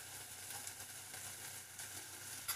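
Onions frying in a pan with chilli sauce and ginger-garlic paste give a faint, steady sizzle with a small clatter near the end, and no one speaks.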